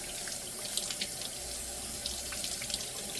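Water runs steadily from a kitchen sink faucet while dishes are washed by hand, a soft continuous splash with light clinks and drips, fairly quiet and with no talk.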